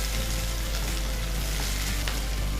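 Capsicum and baby corn frying in oil for a baby corn pepper fry, giving a steady, close sizzle with a dense hiss that holds even throughout, with no talk.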